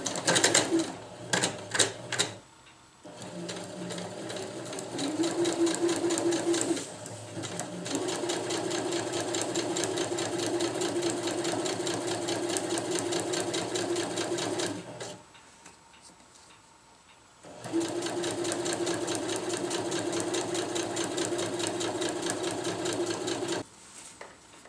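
A sewing machine runs a straight stitch along a rolled hem on tarp fabric, whirring steadily in two long, even bursts separated by a short pause. A few quick starts come first, and the sound is close and fairly loud.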